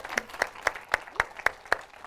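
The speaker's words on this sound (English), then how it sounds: "Another round of applause." A small audience at a hiking festival claps in a slow, sparse rhythm, seven distinct, evenly spaced hand claps ringing out at moderate volume with no talking over them.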